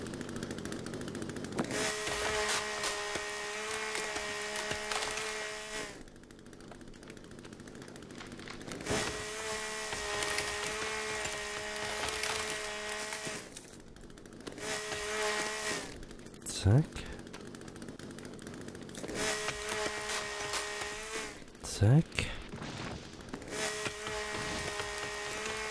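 A chainsaw in the survival video game The Forest cuts wood in three sustained whining bursts, separated by quieter gaps with sharp impact clicks.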